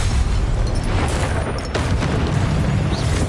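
A Confringo blast spell in a wizard video game: a loud, continuous rumbling explosion with dense crackling and booming that fills the whole stretch without a break.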